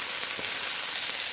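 Onions and chanterelle mushrooms seasoned with pink Himalayan salt fry in a pan, giving a steady, even sizzle with a soft crackle throughout, close and at moderate level, with no voices.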